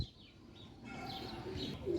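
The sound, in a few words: teddy pigeon cooing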